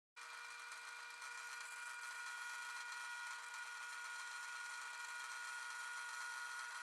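A drill bores through holes in a metal bracket with a steady, high-pitched whine that holds constant for several seconds. It is close and unbroken, with no voices.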